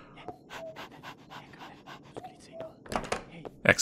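A dog in a video game pants in quick rhythmic breaths while being petted, close and fairly faint, with a voice talking over it and a few soft thumps near the end.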